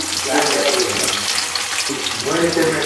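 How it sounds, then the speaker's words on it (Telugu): Thinly sliced onions frying in a pan for spicy egg fried rice, a loud continuous sizzle with bubbling crackle, a voice speaking faintly underneath. "ఇప్పుడైతే సన్నగా కట్ చేసుకున్న ఆనియన్స్ వేసుకుందాం"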